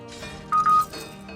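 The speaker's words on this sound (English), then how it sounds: "Oh, it would be my phone making noise, even though it's not supposed to make noise" A mobile phone sounds a single short, bright notification tone, a steady electronic beep lasting about a third of a second, rising clearly above quiet background game audio.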